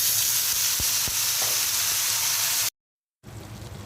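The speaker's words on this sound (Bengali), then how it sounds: "আমি বেগুন, ফুলকপি আর আলু দিয়ে দিচ্ছি।" Eggplant, cauliflower and potato frying in a pan, making a loud, steady hiss of sizzling oil with a couple of sharp taps. The sound cuts off briefly near the end, then resumes.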